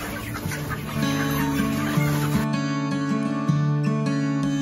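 Chickens on a small Philippine poultry farm cluck steadily and close by, with repeated tonal calls overlapping in a busy, continuous chorus and no talking.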